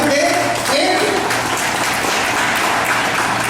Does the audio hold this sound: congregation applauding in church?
yes